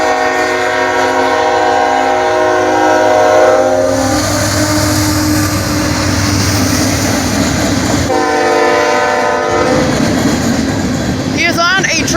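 A train rolls past a street crossing at 4th Street in Chesterton, Indiana, its horn sounding long sustained chords over a steady rumble and rattle of cars, the horn dropping out then returning, with a child and adult chatting faintly nearby.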